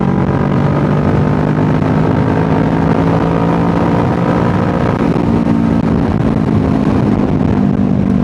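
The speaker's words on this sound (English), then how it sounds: "as soon as I put the new exhaust and ECU on, this bike feels so different" A motorcycle fitted with a new exhaust and an ECU flash drones steadily while riding, a loud, continuous low engine rumble with wind noise and no talking.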